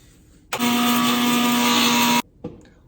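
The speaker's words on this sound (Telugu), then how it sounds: "ఇవైతే ఇప్పుడు మిక్సీ పడదాం." A kitchen mixer grinder whirs loudly for about one and a half seconds as it grinds cumin, coriander and fenugreek seeds, starting and stopping abruptly, followed by a brief clatter.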